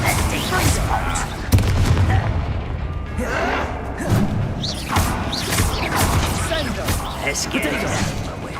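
Blasting curse explosions from the Hogwarts Legacy video game, heavy booming blasts and crashes sustained through the fight, with a sharp hit near the start, under game dialogue.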